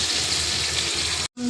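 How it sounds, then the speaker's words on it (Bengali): Capsicum frying in oil with ghee: a steady, loud hiss and sizzle close up, continuous for over a second before a sudden brief cut to silence and a quieter resumption. "ওই তেলে ক্যাপসিকামটা ভেজে নেব অল্প হালকা লাল করে।"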